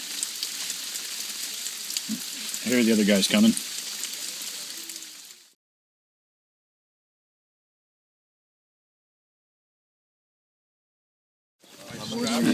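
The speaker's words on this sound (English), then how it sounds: "I'm hiding under a rock from the rain" Steady rain hisses down on someone sheltering under a rock during a Maine road trip, wearing a garbage bag as a poncho. The patter runs for about five seconds under brief talk, cuts out, then returns at the end.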